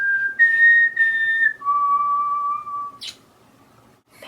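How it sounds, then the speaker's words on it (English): A person whistles a short tune of four clear, sustained notes, stepping down in pitch, followed by a brief breathy sound and quiet. "gotta do the whistle."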